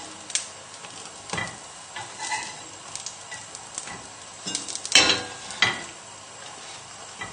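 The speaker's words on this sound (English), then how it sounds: "And we can go and turn the pancakes now." Pancakes sizzling softly in a pan, with a few scraping clicks and taps of the turner as they are flipped over one by one; fairly quiet, with no speech.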